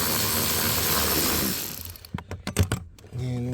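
A ratchet working tiny 5.5 mm bolts on the cabin pollen filter cover of a Porsche Cayenne 9PA. A dense burst of broadband noise gives way to a short run of sharp, close ratchet clicks, then a brief tonal sound.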